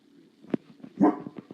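Dogs bark from a TV commercial playing in the background, a few short barks and yips at moderate loudness, slightly distant and tinny.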